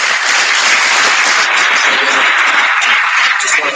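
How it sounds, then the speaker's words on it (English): Steady applause from a conference audience at a software developer event fills the room, loud and continuous with dense clapping throughout. "Let's give a big enough applause."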